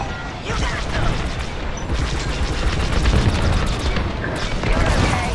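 Rapid starfighter blaster fire in the Star Wars: Squadrons space combat game, dense crackling bursts and booms running continuously under heavy effects, with pilot voices talking over the action.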